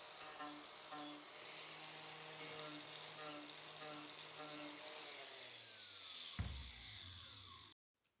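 A power rasp mounted on an angle grinder shapes a wooden acoustic guitar neck: a steady, close high whine with faint rhythmic pulsing as material is hogged off, then spinning down and cutting off near the end.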